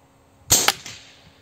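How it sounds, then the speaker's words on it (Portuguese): A single sharp air rifle shot firing a slug through a 600mm barrel, a sudden snappy crack followed by a short metallic ring and quick decay, fairly close. "Quarto disparo."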